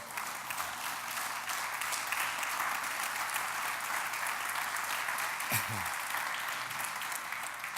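Church congregation applauding during a sermon, a long sustained wash of many hands clapping heard at a distance, steady and even from start to finish.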